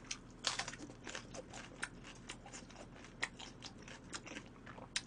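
Crunchy Korean green peppers, the crisp cucumber-pepper kind, are bitten and chewed close up, giving a steady run of sharp, wet crunches and crackles with no talking.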